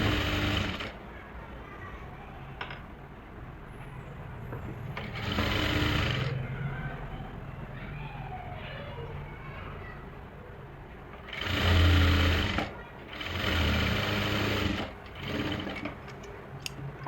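A sewing machine stitches a suit lining along the neck, running in short bursts of rapid mechanical whirring separated by quieter pauses, fairly close and moderately loud.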